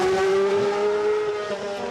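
A Force India Formula 1 car makes a full-power getaway at the Goodwood Festival of Speed, its engine a loud, high, sustained scream that holds steady pitch and fades slightly as it pulls away.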